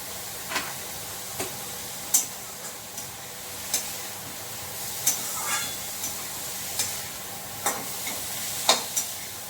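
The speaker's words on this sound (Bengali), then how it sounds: "একটু নেড়ে ফেড়ে নিলাম" Vegetables fry and sizzle in a pan for a vegetarian dish while a spoon stirs them, scraping in regular close ticks over a steady hiss.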